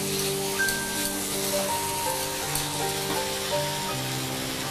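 Soya chunks fry in oil in a pan with a steady, even sizzle at moderate level, close and continuous with faint background tones underneath.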